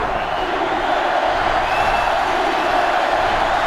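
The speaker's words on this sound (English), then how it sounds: "This sellout crowd is really making a difference now as these guys can't even call the play." Dense, steady roar of a sellout football stadium crowd in a college football game, a continuous loud wash of cheering with no distinct breaks.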